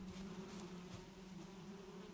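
Bees buzz in the Valheim video game, a steady droning hum with a low tone that holds the whole time without a break, moderately loud and close, with no talking over it.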